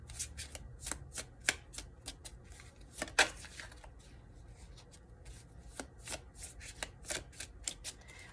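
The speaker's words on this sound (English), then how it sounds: "I'm gonna get one more card from this deck." Someone shuffles a deck of cards in quiet, close riffles and rapid flicking bursts, broken by short pauses, with no talking.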